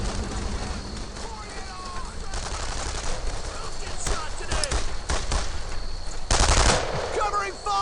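Rapid machine gun bursts crackle through a World War II combat scene in Brothers in Arms: Earned in Blood, with repeated close volleys, shouted squad commands and a loud burst near the end.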